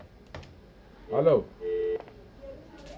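Telephone keypad tones sound during a call on a medical question phone-in, with a couple of short, clear electronic beeps set among faint background murmur and voices.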